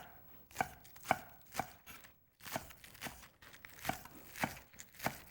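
Scallions chopped on a board: about ten crisp knife strikes in a steady rhythm with a short pause midway, close and fairly quiet, no talking.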